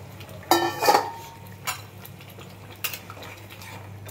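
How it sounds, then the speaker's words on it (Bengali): Fried katla fish pieces go into a pot of boiling curry, marked by a few sharp clinks and clatters of a utensil against the pot, with quieter bubbling in between. "এবার আমি মাছগুলো, ভেজে রাখা মাছগুলো সব দিয়ে দেব।"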